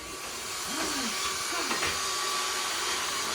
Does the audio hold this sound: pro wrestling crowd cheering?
no